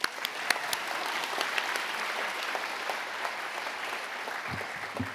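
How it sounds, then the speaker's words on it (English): Sustained audience applause at an evening heritage awards ceremony, dense steady clapping with a few sharper individual claps standing out, continuing for the whole stretch without speech. "Let's show our appreciation and give them all a round of applause."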